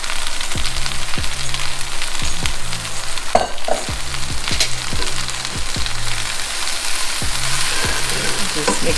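Oong choy (water spinach) stir-fried in a wok: a loud, continuous hiss of frying with repeated clanking spatula strokes against the metal, close up and without speech.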